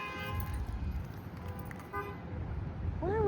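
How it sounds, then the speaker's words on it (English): A car horn honks in a short toot near the end, heard faintly outdoors in a Dayton parking area amid low traffic noise. "Why are we just honking the honk?"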